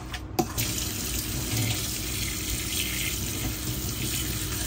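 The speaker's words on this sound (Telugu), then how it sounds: "ఇందులో వేడి వాటర్ అంతా తీసేసాను, కొంచెం వాటర్ నింపుకుంటున్నాను." Tap water runs steadily into a vessel at a home kitchen while shark is being prepared for frying; a sharp clink opens it, then an even, close splashing flow continues throughout.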